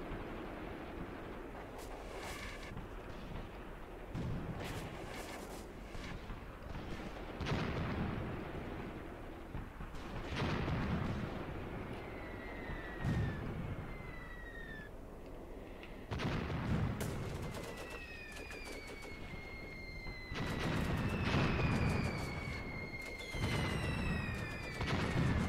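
Artillery fires in the Graviteam Tactics war game, with repeated distant booms and blasts spread through the scene and some whistling incoming shells between them, all fairly quiet.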